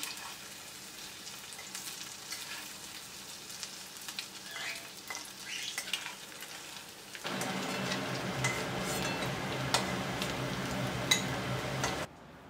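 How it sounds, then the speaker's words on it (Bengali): Two dried red chillies fry in a home kitchen pan, a steady crackling sizzle with small ticks and pops that grows denser and louder partway through, then cuts off abruptly near the end. "শুকনো লঙ্কা দুটোকে ভেজে নিচ্ছি"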